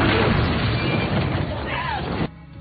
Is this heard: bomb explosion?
yes